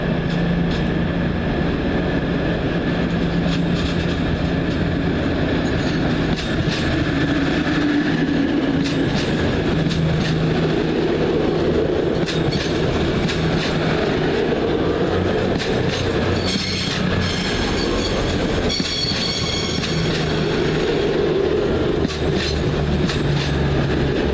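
A Meridian diesel measuring train rumbles past close by, wheels clattering and squealing on the rails in a steady, loud roar that continues throughout.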